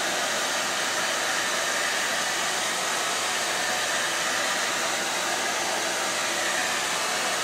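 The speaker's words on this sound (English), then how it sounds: "I did find my hairdryer." A handheld hair dryer runs continuously at close range, producing a loud, steady airy roar with no change in pitch and no talking over it.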